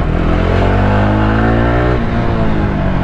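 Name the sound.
Jawa 42 Bobber motorcycle accelerating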